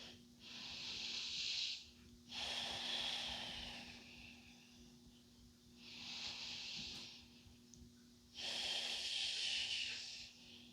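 A yoga instructor takes four long, slow breaths, each an airy, hissing exhale of about two seconds separated by short quiet pauses, close and clear over a faint steady hum.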